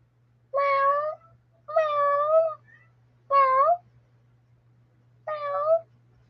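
A cat meows four times, each call drawn out and clear, spaced by short pauses over a faint steady hum, with no speech.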